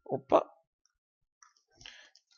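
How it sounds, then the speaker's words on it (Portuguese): A computer keyboard gives a couple of sharp, close clicks at the start, followed by near silence and a faint rustle. "vou dar Enter"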